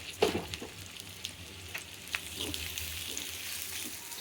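Onions salted and frying in a pan give a low, steady sizzle with a few sharp clinks of stirring near the start, with no talk over it.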